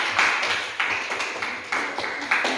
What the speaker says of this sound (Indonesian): Tepuk tangan dulu untuk Irfan.